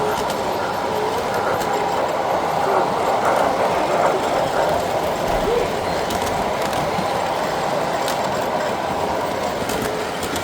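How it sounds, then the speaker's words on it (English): Model trains rumble steadily along a track at a train show, a continuous clattering whir, fairly close, with no pauses throughout. "the trains running around"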